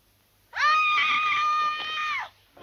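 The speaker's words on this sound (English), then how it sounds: "Who screamed?" A single shrill scream, sustained for nearly two seconds, loud and close, rising sharply at the start and trailing off at the end, heard alone with no talking.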